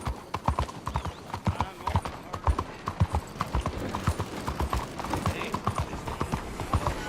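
Horse hooves clip-clopping steadily in Red Dead Redemption 2, a rapid rhythmic series of close, distinct hoof strikes with a brief whinny-like sound mixed in, under game ambience.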